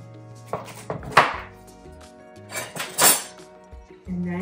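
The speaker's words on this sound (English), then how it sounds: "Cut through your squash." A large, sharp kitchen knife cuts through a tough spaghetti squash in a few separate crunching, scraping strokes, close and fairly loud, with no talking.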